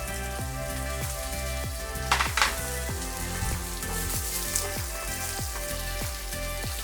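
Chorizo sizzles and fries in its own rendered fat on low heat, a steady dense crackle with a few louder spits and pops, no talking over it.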